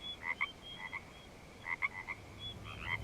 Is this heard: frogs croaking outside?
yes